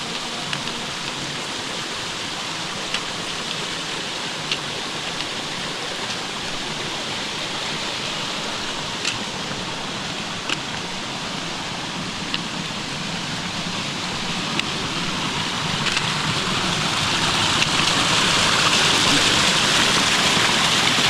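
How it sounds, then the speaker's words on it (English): Chia Falls, a small waterfall on a forest trail near a shelter and campsite, rushes in a steady broadband roar that swells louder toward the end as the listener draws closer. "This is Chia Falls."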